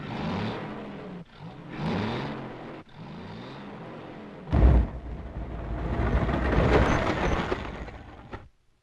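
Military supply trucks and vehicles on highways across the Apennines in wartime: rumbling engines with harmonic whine pass in several bursts, then a heavy thump and a loud, broad roar of traffic that fades out abruptly.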